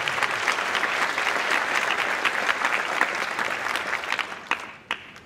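Audience at a Farmingdale High School winter concert claps in a steady, dense wave of applause that holds, then thins and tapers to a few scattered claps at the end.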